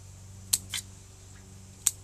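Scissors snip twice on a bonsai branch during pruning, two sharp isolated clicks with a short rustle between them, quiet against a steady low hum.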